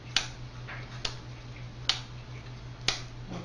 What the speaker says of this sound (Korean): 한 10번쯤 이렇게 앞뒤로 바꿔가면서 탁탁 치대 주세요